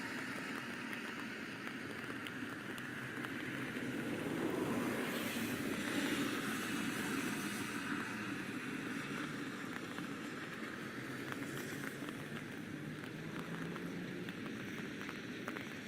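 Steady rain falls over a flooded lagoon area in a steady, hissing wash that continues unbroken, swelling slightly midway, with no talk.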